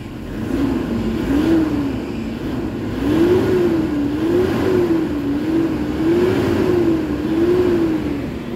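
A Toyota Hilux pickup truck engine revs repeatedly, its pitch rising and falling in waves as the throttle is pressed and released, steady and close.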